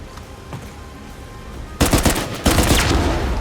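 Heavy gunfire in Uncharted 4 multiplayer: quiet ambience, then sudden loud bursts of rapid automatic shots starting about halfway through, with a second dense volley following soon after.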